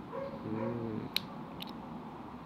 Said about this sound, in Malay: anjing tu selalu bunyi tiap-tiap hari, tiap-tiap minit